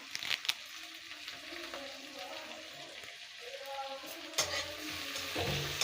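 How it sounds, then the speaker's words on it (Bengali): Two dry red chillies and curry leaves fry in oil for chicken 65, a quiet crackling sizzle dotted with small pops and occasional scrapes of stirring, near and without clear speech. "বন্ধুরা দুটো শুকনো লঙ্কা দিয়ে দিলাম। আর ওর সঙ্গে কারি পাতা।"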